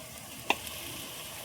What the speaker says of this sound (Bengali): ভাজার জন্য খুব ভালোভাবে নেড়ে দেবো